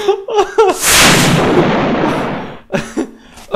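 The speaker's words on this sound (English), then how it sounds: "I've got a bazooka." A bazooka fires and explodes in the Call of Duty video game: a sudden loud blast with a long rumbling decay, framed by short excited voice bursts before and after.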